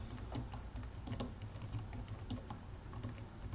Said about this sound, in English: you can just double click in it and start typing away